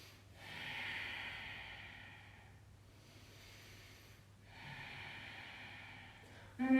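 Two slow, drawn-out Ujjayi yoga breaths, each a soft, throaty, ocean-like rasp swelling and fading over a couple of seconds, close and quiet, with a brief louder sound at the very end.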